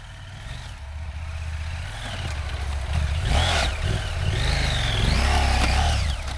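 Off-road motorcycle engine on a backcountry trail revving and rising in pitch as the rider makes a second climbing attempt, loud and close, with clattering over the strain of the engine.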